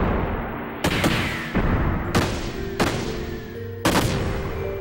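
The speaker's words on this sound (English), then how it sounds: "And impact gun!" The Impact Gun attack from the video game Xenogears fires as a series of five loud, booming blasts about two-thirds of a second apart, each with a ringing tail. No voices are heard.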